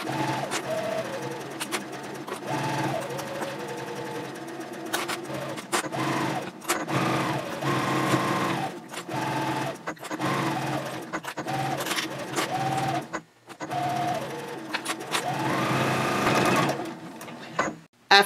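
A sewing machine runs steadily, basting layers of pouch fabric about 1/8 inch from the edge at a 3.0 stitch length; the close whirring stitching pauses briefly a few times and carries no talk.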